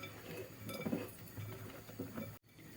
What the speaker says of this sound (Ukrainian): перемішую баклажани ще з олією.